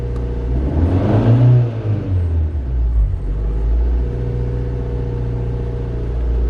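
A car engine blips once as the gas pedal is pressed and released, a rising rev that swells early and settles back into a steady low idle rumble, heard close and without speech.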